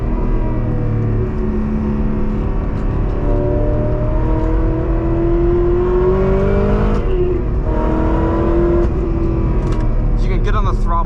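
A 2008 Chevrolet Corvette C6RS by Pratt & Miller on track, its engine roaring loudly from inside the car as it accelerates and the pitch climbs and drops through shifts, with tire and wind noise.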